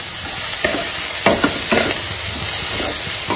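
Vermicelli frying in a pan for a breakfast dish, a steady hiss with a few scraping stirs of the spatula, close and fairly loud, no voices.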